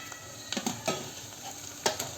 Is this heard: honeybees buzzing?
no